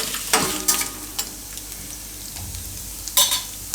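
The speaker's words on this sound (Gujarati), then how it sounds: "અને 2-4 લાલ મરચાંના ટુકડા. થોડીક વાર ફેરવી લેવાના" Red chili pieces sizzling and frying in hot oil while being stirred in a pan, with a few clattering stirs at the start and end over a steady close sizzle.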